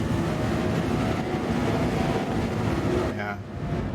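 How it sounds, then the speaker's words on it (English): A Drake Cutter ship in Star Citizen boosts at full throttle on a moon with a dense, whooshing, vacuum-like roar that holds steady, then briefly thins and wavers near the end. "The boost sounds a little weird. Sounds like a vacuum cleaner with a hairball."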